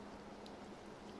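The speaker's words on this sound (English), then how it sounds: "The rain's easing up. Hear that?" Steady rain falling on a surface, a dense even patter that stays constant and moderately soft throughout the short stretch, with no voices over it.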